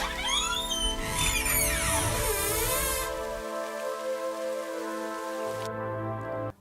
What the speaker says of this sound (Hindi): बहुत बारिश तेज हो रही है।